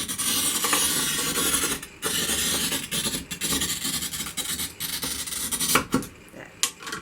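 Glass cutter scoring a sheet of glass for a stained glass table lamp, with a continuous close gritty scratching along the line, ending in a few light taps and clicks.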